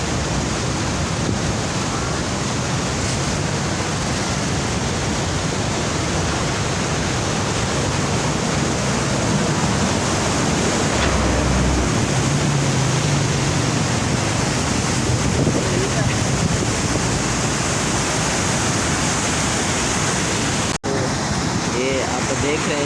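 The Indus River rushes in a steady, loud broadband roar at Tosa Sharif, mixed with gusts of wind buffeting the microphone.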